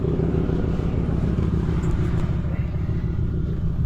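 A Lexus LS400 on air suspension drives along, its steady low engine and road rumble filling the whole stretch with a constant, dense drone and faint clatter.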